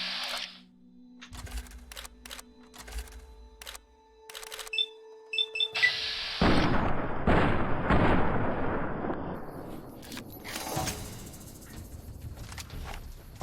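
An object explodes after being shot in Fallout: New Vegas. Scattered clicks and gunfire lead into a sudden loud blast with a rumbling roar that slowly decays.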